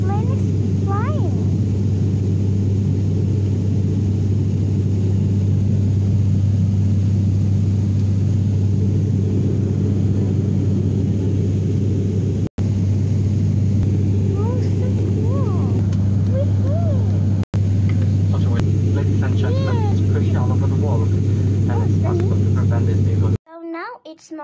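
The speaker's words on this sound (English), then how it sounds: "The plane gonna start now. Well, the plane is starting. The plane is flying." A passenger airliner runs up its engines and rolls for takeoff, a loud, continuous low rumble and roar heard from inside the cabin, with brief dropouts and faint voices of a child underneath.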